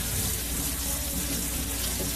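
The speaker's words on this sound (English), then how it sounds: "just dump them in your strainer and you're gonna rinse them off with some cold water" Cold tap water runs steadily over drained canned chickpeas in a strainer, a loud, continuous splashing rush at close range that never lets up, with no voices.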